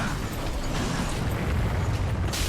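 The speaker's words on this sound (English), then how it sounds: "Explosions. There are multiple hazards right now." Rumbling explosions and blasts in the dark fantasy action game Dark Souls 3, a dense, continuous roar of booming noise that stays loud and steady throughout, with a brighter burst near the end.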